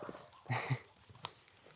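A small dog outdoors in the Netherlands makes a couple of short, soft huffs close by around the middle, amid faint footsteps and rustling, with no talk over it.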